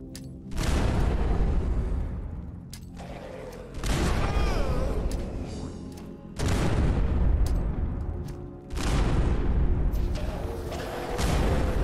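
Flamer weapon firing in Fallout Frost, with four long, roaring whooshing bursts of several seconds each, loud and close, separated by brief pauses.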